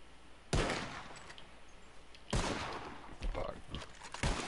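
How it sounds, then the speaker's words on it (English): Gunshots in a bird-shooting video game, two sharp loud blasts a couple of seconds apart followed by fainter pops, with background game noise. "You shoot four birds out of the sky before me, you win."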